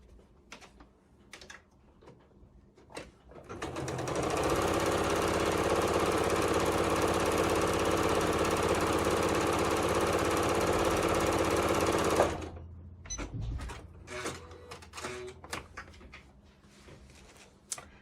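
Close up, a sewing machine stitches quilt-as-you-go blocks in one long continuous whir lasting several seconds, framed before and after by soft handling clicks and fabric rustles without talking.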